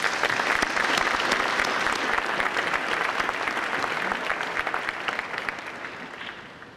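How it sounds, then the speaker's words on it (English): A high school commencement audience applauds teachers, staff and principals, dense sustained clapping from a large crowd that slowly fades toward the end. "I'd like you right now to thank all of them with a round of applause"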